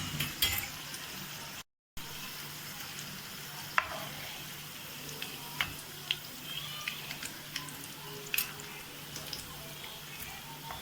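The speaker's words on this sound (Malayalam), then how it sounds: "ഇതുപോലെ നമുക്ക് എല്ലാതും വറുത്തെടുക്കാം." Onion chips frying in hot oil, a faint, even sizzle with scattered light clicks and taps from turning the pieces, one short dropout, and no talking.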